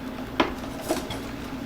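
Clams are dropped into a metal pot in a home kitchen, two sharp close clinks of shells against the pot over a low steady background, no speech.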